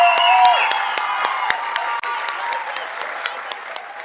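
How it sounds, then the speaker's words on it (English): A commencement crowd applauds BLSA graduates at a cultural celebration, with loud, sustained clapping mixed with cheers and whoops, plus a few sharp individual claps standing out near the listener. "Now let's have one final round of applause for all our BLSA graduates"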